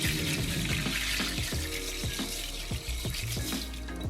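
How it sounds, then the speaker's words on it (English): Vegetable stock pours into a pot of lentils and vegetables, a continuous close splashing, gurgling flow of liquid with no talk. "I'm going to add my 900ml vegetable stock"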